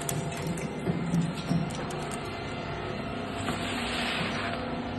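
A Zuick Z2S-400 shredder grinds plastic auto parts, giving a steady, dense mechanical churn with scattered crunching knocks and a high whine above it, running continuously up close.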